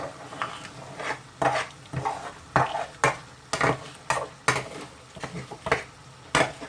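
A utensil scrapes and stirs chopped chillies, pith and seeds included, around a hot pan for a garlic chilli chicken curry, a rhythmic series of about a dozen close metallic scrapes over a faint sizzle, with no talking.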